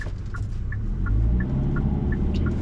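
The turbocharged four-cylinder engine of a 2024 Hyundai Santa Cruz SEL AWD hums steadily under load while driving, a low rumble joined by a regular faint ticking chime.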